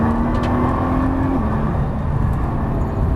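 A Nissan GT-R accelerates on a race track, its engine a loud, close, continuous roar with a steady drone and a brief pitch shift partway through, heard alone.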